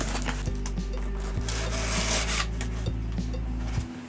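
Continuous rubbing and scraping of a cardboard guitar-pedal box being handled up close, with a few dull knocks and thumps spread through it.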